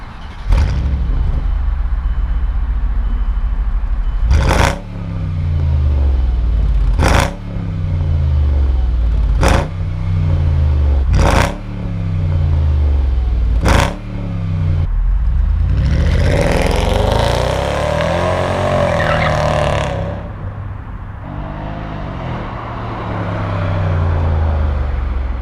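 A Mercedes CLS engine revs repeatedly, about five sharp throttle blips with the exhaust falling back between them, then a longer sustained rev before settling.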